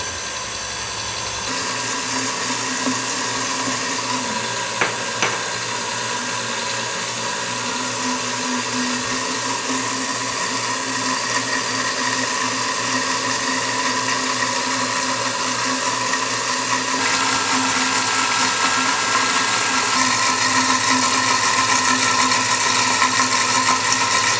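A blender whirs continuously at high speed while making mayonnaise, its pitch shifting slightly partway through as oil is added and the sauce emulsifies and thickens, loud and close, no talking.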